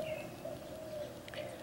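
Birds calling near a backyard bird feeder over a water bowl, a few faint short chirps and calls against a quiet background hum.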